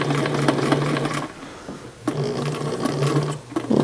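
A sewing machine stitches a pullover top in two short close bursts, with a rapid rattling run, a brief pause, and then another run of stitching.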